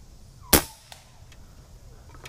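One sharp, fairly loud crack from an Umarex Gauntlet .22 air rifle fired outdoors, followed by a couple of faint ticks from the pellet hitting the target far off, then quiet.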